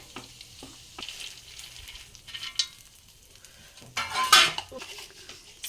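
Fried peanuts being stirred into a flattened rice (poha) mixture in a pan, giving close scraping and clinking of a spoon against metal with soft rustling, sharper and louder toward the end, no talking.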